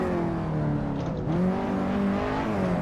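A rented KTM X-Bow on the Nürburgring Nordschleife, its engine droning steadily close by with a brief lift and then a rising pull as revs climb again, loud and continuous throughout.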